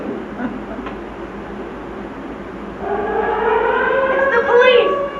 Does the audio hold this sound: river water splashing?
no